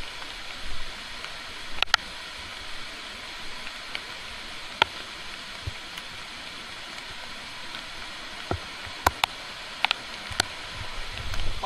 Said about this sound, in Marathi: पाण्याचा जोर बघा